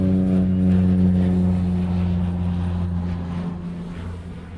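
A tanker aircraft flying near Honolulu airport gives a steady, loud engine drone that fades slightly toward the end, heard from a distance with no talking.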